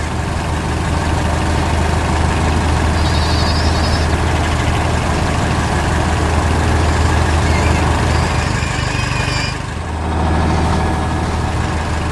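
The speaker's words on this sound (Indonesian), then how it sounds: "Mobil traktor sedang bekerja keras" A tractor engine rumbles loudly and steadily close by, a deep continuous drone with a brief dip near the end before resuming.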